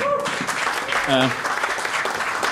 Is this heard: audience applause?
yes